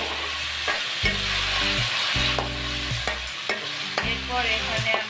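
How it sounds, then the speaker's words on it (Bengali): Ginger garlic paste frying in a pan, with a steady close sizzle and bursts of spatula stirring and scraping, heard alone without talk. "তো দেখতেই পাচ্ছেন আদা রসুনের পেস্টটাকে আমি হালকা ভেজে নিয়েছি"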